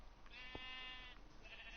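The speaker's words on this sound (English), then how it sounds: "He's got sheep in there." A Minecraft sheep on a farm gives one clear, drawn-out bleat, quiet and alone over a faint low hum.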